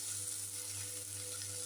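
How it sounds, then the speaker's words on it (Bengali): Chopped tomato, capsicum and green chili fry in a pan for chilli paneer, giving a short, even, continuous sizzle heard up close with no talking. "টমেটো দিয়ে দিলাম, ক্যাপসিকাম দিয়ে দিলাম, কাঁচা লঙ্কা কুচি দিয়ে দিলাম। এগুলো একটু হালকা করে ভেজে নেব।"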